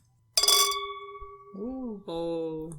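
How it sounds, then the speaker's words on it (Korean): A bright, bell-like clink rings out and sustains with a clear ringing tone. A brief voiced sound follows, then a second, steadier ringing tone near the end. "종소리 같네요"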